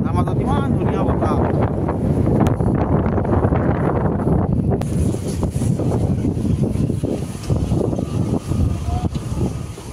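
Wind blowing across open grassland at Kaziranga during a jeep safari, buffeting the microphone in loud continuous gusts, with a person talking over it for the first half.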